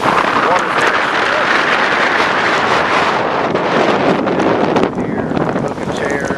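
Strong wind in the rain the day after Hurricane Isaac roars and buffets the microphone continuously, a loud broadband rumble with gusts, easing slightly near the end.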